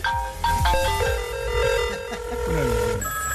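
A parody mobile phone ringtone for a 2022 French presidential candidate plays as a bright, tonal electronic melody with steady musical notes and a bass line throughout, loud and close, with no talking over it.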